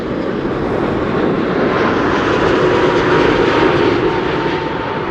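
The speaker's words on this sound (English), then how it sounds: "It's a 787-10 Dreamliner, 5 years old, first flight February 2020." Saudi Boeing 787-10 Dreamliner airliner arriving from Jeddah, a steady, loud broadband jet roar that holds evenly throughout, close by and with no voices.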